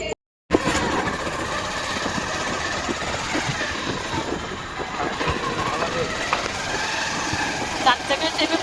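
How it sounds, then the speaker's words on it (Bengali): A car engine runs steadily with a rough, continuous rumble inside the vehicle, moderately loud and close, as a family rides in a four-wheeled car. "চার চাকায় চেপে পড়েছি সবাই মিলে"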